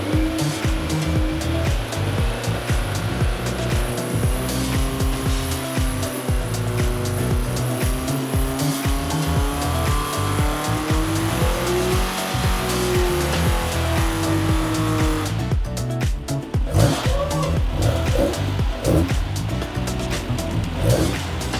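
Tuned high-power Volkswagen engine running hard under load in a performance engine shop, a loud continuous roar with rising and falling pitch and rough, gritty texture, turning harsher and choppier near the end.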